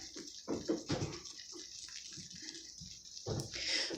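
Wool dipped and sloshed in hot water while wet felting an Easter egg, a steady close splashing and trickling with small drips and swishes running throughout.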